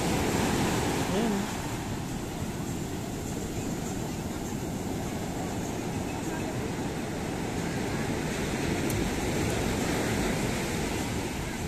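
Strong ocean waves breaking at a beach at sunset, a continuous heavy roar of surf mixed with wind buffeting the microphone, loud and constant throughout.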